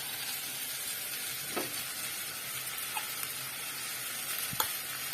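Steady frying sizzle as coconut chutney is poured into hot oil with fried onions, a continuous crackling hiss with a few soft stirring clinks and taps, close and moderately loud with no talk.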